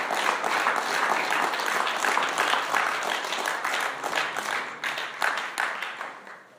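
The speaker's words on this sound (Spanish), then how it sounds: "¿Pueden dar un aplauso a la presencia de Dios?" A church congregation claps together in a sustained round of applause during a sermon, a dense, lively patter that gradually thins and tapers off toward the end.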